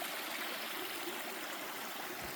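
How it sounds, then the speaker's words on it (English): A mountain stream flows through the woods in a continuous, even rushing and gurgling wash, steady and moderately distant with no voices. "But this stream comes from Squirrel Mountain"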